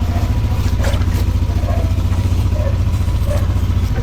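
A Yamaha Aerox scooter engine idles while warming up, a steady low rapid putter with light mechanical clatter, close and fairly loud throughout without a break.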